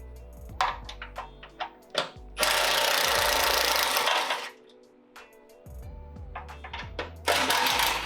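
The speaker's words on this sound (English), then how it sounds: "I'm using an impact, but you can use a ratchet." Pneumatic impact wrench with a 12mm socket rattles off crash bar bolts on a 2015-2019 Subaru Outback front bumper, giving short bursts and then a long sustained hammering run, loud and close, separated by clinks of metal parts.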